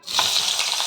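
Pieces of eggplant go into hot oil in a wok and set off a loud, bright sizzle at once. The frying holds steady and close for under a second, with no talking.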